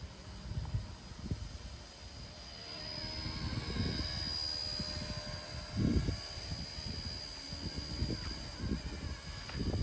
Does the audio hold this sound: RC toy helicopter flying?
yes